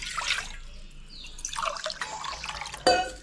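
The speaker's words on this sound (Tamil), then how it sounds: "நான் அரிசி எடுத்த டம்ளர்லேயே ஒரு 5 டம்ளர் தண்ணி ஊற்றிக்கிறேன்" Water is poured by the tumbler into a pot for cooking rice, a few short splashing and trickling pours close by with quiet gaps between them.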